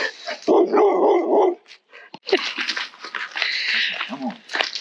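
Several dogs bark and yip excitedly in short irregular bursts before heading out for a walk, close and loud, with a whimper and a person's voice mixed in.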